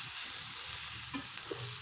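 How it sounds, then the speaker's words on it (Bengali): Turmeric powder being stirred into food in a frying pan, a faint continuous sizzle with a couple of soft scraping stirs, no voices. "হলুদের গুঁড়া দিয়ে আমি ভালোভাবে মিশিয়ে নিচ্ছি।"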